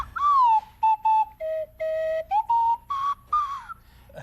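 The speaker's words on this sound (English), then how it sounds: "Oh, it's like a slide whistle." A slide whistle plays a string of short notes, its pitch gliding up and down between bursts, loud and close.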